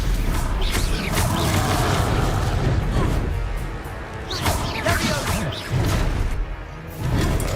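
Explosions from the Confringo blasting curse in a Hogwarts video game, a series of booming crashes and whooshing blasts spread across the scene, loud and repeated, with game voices shouting around them.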